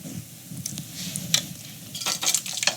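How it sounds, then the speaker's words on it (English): Boxed vegetable broth poured into a paella pan, giving a soft liquid rush and light sizzle alongside faint clinks and scrapes of cookware, with no talking. "Now we're going to add 1 3/4 cups of veggie broth."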